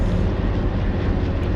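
Dakota transport aircraft engines droning overhead during an airborne drop of paratroopers, a loud, steady, dense roar that fills the whole moment without pause.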